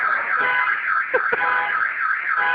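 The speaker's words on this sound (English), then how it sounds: "There's our friend with the car alarm again." A car alarm sounds outside on a New York street, a steady warbling electronic wail that cycles over and over. It is loud and continuous and runs alone, without voices.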